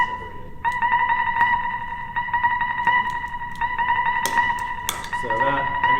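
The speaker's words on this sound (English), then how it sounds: "It's pulling all the delays apart to make up all the reverb." A guitar signal through an EarthQuaker Devices pedal that splits delays apart into reverb, played at Summer NAMM 2014; a repeating bright tone with echoing delay trails smears into a wash, with brief sharp transients near the end.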